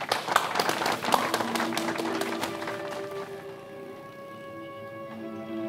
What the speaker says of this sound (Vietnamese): Cả lớp cho một tràng pháo tay để tuyên dương các học sinh có thành tích tốt trong học kỳ này